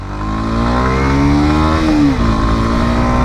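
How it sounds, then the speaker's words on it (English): A 2019 Kawasaki Z125 motorcycle at full throttle, its engine note climbing steadily in pitch and holding loud and close before easing off. "That was a full throttle acceleration"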